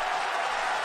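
A large crowd cheers loudly at the Japan Dirt Derby, a 2000 m dirt race, as the horses head into the first corner, a steady roaring wash of sound with no breaks.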